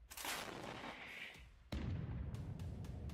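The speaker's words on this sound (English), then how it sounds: "As it moves closer, the shelling from Russian artillery only intensifies." Russian artillery shells land around a Ukrainian armored personnel carrier as it moves toward enemy positions: sharp cracks give way to a sudden loud close blast, followed by heavy rumbling and further scattered reports.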